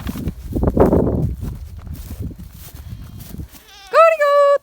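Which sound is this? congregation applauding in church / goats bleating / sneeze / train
goats bleating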